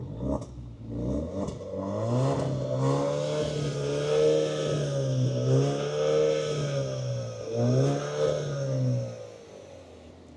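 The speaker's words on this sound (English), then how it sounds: "And that is your exhaust sound." A 2025 Alfa Romeo Giulia Veloce sedan's exhaust revs up and down several times, a deep throaty engine note rising and falling, close and loud with no talking.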